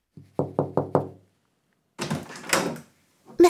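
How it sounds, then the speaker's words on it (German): Four sharp knocks on an office door in a German-language audio drama, followed by the door handle and door opening with a rustling swing and a brief click at the end, close and clear. "Sie klopfte an die Bürotür von seinem Chef und öffnete dann für ihn die Tür."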